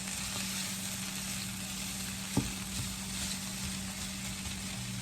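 Chicken sizzles steadily in a skillet with a dense, even frying hiss. A single soft knock comes as a utensil breaks the meat apart, and there is no talk.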